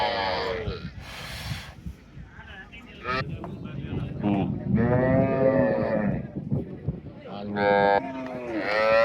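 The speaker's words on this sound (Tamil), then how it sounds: "கண்ணபுரம் மாரியம்மன் கோயில் மாட்டு சந்தைங்க பறந்து விரிஞ்சு கிடக்குதுங்க" Cattle at a temple cattle market in Kannapuram, Tamil Nadu, lowing repeatedly in long drawn moos, several animals close by with open-air wind and scattered voices in between.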